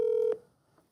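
A phone keypad tone sounds steadily for about a third of a second as a number is dialed, then cuts off, leaving faint room noise.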